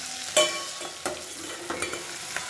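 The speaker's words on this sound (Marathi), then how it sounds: "चांगली थोडी परतून घ्यायची भाजी." Ghol (purslane) vegetable with soaked masoor dal being sautéed in a pan: a quiet, steady sizzle broken by a few sharp scrapes and taps of a stirring spoon, close up.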